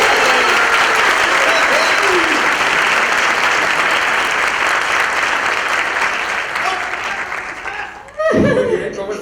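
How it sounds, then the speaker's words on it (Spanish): A large audience applauds at a UNICEF Mexico annual report launch, with dense sustained clapping mixed with chuckles and laughter that fades, then voices and a burst of noise near the end. "Así que un aplauso."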